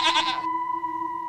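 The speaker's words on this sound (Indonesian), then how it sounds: "Yang mengembek-embek terus itu kambing siapa?" A goat bleats once in a short, nasal burst that cuts off abruptly, leaving a steady faint tonal hum behind it.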